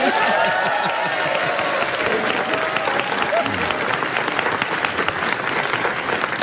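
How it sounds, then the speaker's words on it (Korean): An audience bursts into sustained applause, a dense crackle of many hands clapping, with a voice trailing off at the start. "박수 부탁드립니다"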